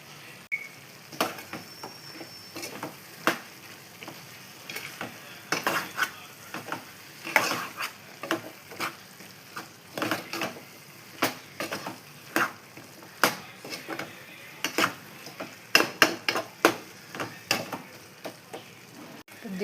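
Fish curry with tomato cooks in a pan over a low sizzle, broken by frequent irregular clicks and taps of a spoon stirring against the pan, close and without talking.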